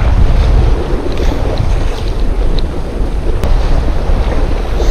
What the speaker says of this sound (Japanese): ものすごい風とうねり